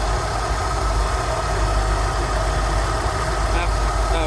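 A Rolls-Royce Silver Shadow engine idles steadily at around 740 to 750 rpm while its carburettors are tuned, giving a constant close low rumble with faint background noise and no other sounds.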